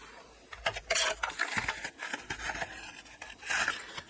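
A paper trimmer slices through paper for a journal pocket, giving a few quick scraping, rasping strokes with small knocks and handling noises between them.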